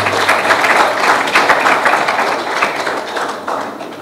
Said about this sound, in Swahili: Makofi mengi kwa Jairut.